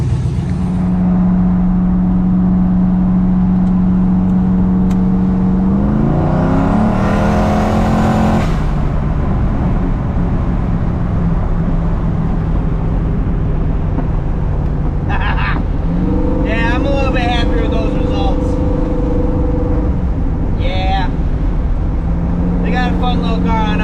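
A turbocharged Ford Fairmont drives and accelerates up through the gears, loud and close from inside the car, with rising engine pitch, shifts and turbo sounds, and a voice talking over parts of it.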